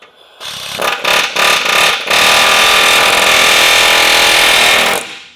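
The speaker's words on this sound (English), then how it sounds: "now we take our trusty dusty air hammer" A pneumatic air hammer, used during a truck rear suspension install, fires in several short, loud bursts, then hammers continuously for a few seconds before stopping.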